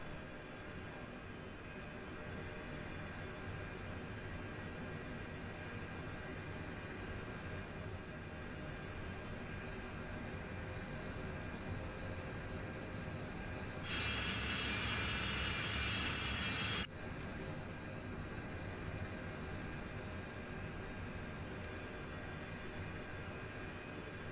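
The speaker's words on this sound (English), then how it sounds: "This is my first flight in the Antonov" Heavy Antonov aircraft engines drone steadily in flight in a flight simulator game, a continuous loud rumble with a steady whine. Partway through, a brighter hiss swells for a few seconds and then cuts off abruptly.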